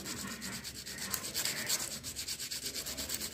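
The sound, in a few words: rubbing a pointed tip with thick sandpaper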